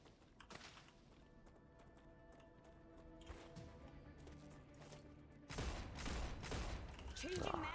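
Gunfire in the sci-fi video game StarRupture, a scattered series of sharp shots that grows louder and denser toward the end, mixed with other game sounds and a voice talking.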